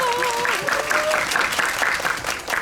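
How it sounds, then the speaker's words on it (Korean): Audience applause for an actor at a film talk event at COEX in Seoul, a loud sustained crowd clapping that runs throughout, with a brief voice over the opening moment. "큰 박수 맞으시고"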